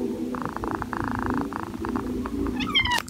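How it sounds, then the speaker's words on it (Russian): A British cat purrs and murmurs close by in a steady, rough rumble, then gives a short rising meow at the end. "пришел кот, на волку вот он сидит, он мяукал"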